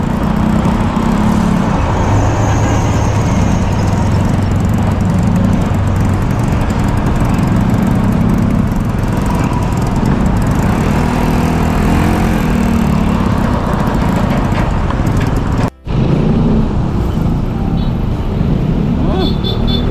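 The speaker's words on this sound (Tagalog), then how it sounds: "Daming truck oh." Heavy trucks crawl through congested traffic on Moriones, producing a loud, continuous engine drone and road rumble with no letup, broken only by a brief dropout near the end.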